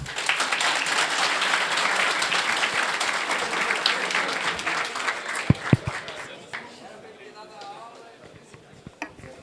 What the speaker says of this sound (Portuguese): uma salva de palmas para o Ricardo